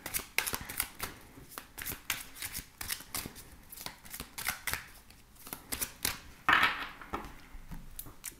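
Tarot cards being shuffled by hand: a run of quick, crisp riffling and slapping bursts close to the mic, steady and rhythmic for several seconds with no talking.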